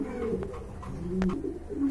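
Jade spring pigeons coo softly in a few low, throaty rolls, close by and alone.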